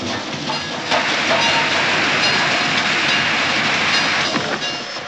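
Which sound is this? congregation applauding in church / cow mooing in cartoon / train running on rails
train running on rails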